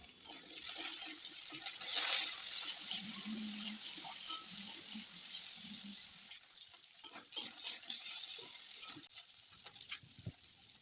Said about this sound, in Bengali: আলু একটু ভাজা হয়ে গেলে এর মধ্যে আমরা দিয়ে দেব কেটে রাখা বিনসটা দিয়ে কিছুটা সময় ভেজে নিতে হবে।